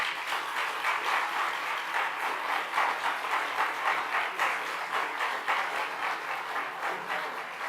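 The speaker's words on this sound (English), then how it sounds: "I request all the students to give a big round of applause" Students at a graduation reception applaud in a moderately loud, even wash of clapping that carries on throughout with a slight rhythmic pulse.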